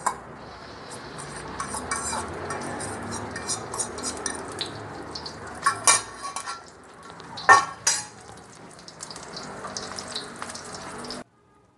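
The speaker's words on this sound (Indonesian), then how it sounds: "Sekarang dadar telur." Beaten eggs cooking as an omelette in a pan of clean oil previously used for frying tofu, with steady sizzling and repeated scraping and clinking of utensils against the pan, plus a few louder knocks, alone with no talk.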